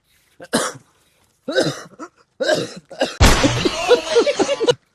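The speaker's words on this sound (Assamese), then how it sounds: "কাহ পাই গৈছে" A person coughs in a few separate short bursts close by, followed by a harsh, noisy rush of sound.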